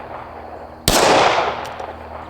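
A single sharp shotgun blast from an ATI FXS-9 fired outdoors, a sudden loud crack with a broad decaying tail lasting over a second, after quiet background.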